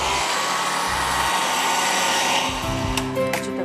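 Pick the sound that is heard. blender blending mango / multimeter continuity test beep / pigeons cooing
blender blending mango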